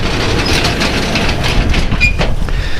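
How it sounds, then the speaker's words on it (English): Strong wind from Hurricane Sandy roars steadily against the microphone, a loud, continuous rushing with gusty buffeting throughout. "You could probably hear the wind, which means you probably can't hear me."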